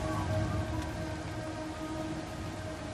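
Steady rain falls in the video game Everybody's Gone to the Rapture, a continuous hiss of drops spread evenly throughout without any voices.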